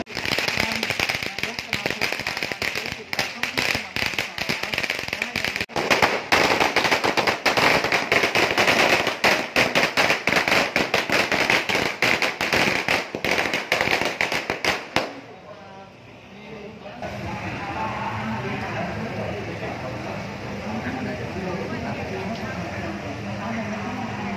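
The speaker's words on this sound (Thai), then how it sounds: "จะมีการจุดพลุ" Fireworks set off during a temple deity procession at the Hat Yai vegetarian festival, with dense, rapid crackling bursts for about fifteen seconds, then a quieter stretch of crowd murmur and street noise.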